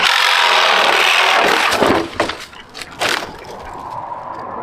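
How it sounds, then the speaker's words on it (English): A wooden sign is sawn off during a roofing job, heard as a loud continuous power-saw cut that breaks up into cracks and splintering bursts near the end. "We're cutting the sign off."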